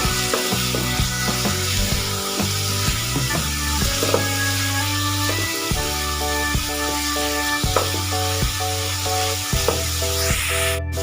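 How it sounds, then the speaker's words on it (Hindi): Chicken pieces frying in hot oil over a medium flame for a tikka bread roll filling, a steady sizzle running throughout under a sustained background music bed, with scattered stirring clicks. "इसमें हम चिकन डाल देंगे और चिकन को हम मीडियम फ्लेम पे भूनेंगे।"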